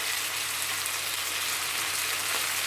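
Cooked yam and long beans frying with shallots and garlic in hot oil, a steady close sizzle with no pauses for the whole stretch, Kerala-style stir-fry.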